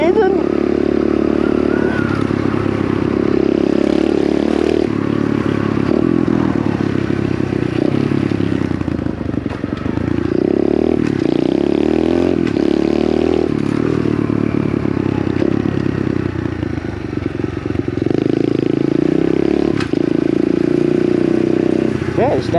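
Small pit bike ridden along a rural track, its buzzy single-cylinder engine droning close and loud throughout with rising and falling revs, clattering and scraping, and a rider talking over it.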